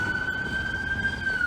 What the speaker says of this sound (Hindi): ये जो आवाज़ आपको आ रही है ये एम्बुलेंस की आवाज़ है।